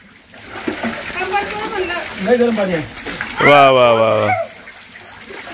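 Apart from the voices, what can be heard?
water splashing in hot spring bathing tank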